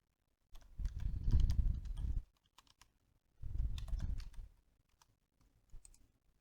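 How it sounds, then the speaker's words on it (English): Computer keyboard keys clicked in two quick bursts of typing while entering a password, with a few scattered keystrokes after; close and clear, no talking. "I'm going to type in my password."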